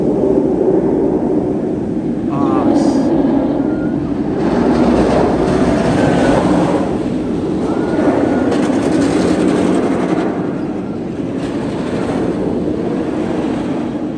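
Cheetah Hunt roller coaster roaring past at Busch Gardens, a loud rushing rumble with rattling wheels that swells, fades and returns over several seconds, outdoors and without talk.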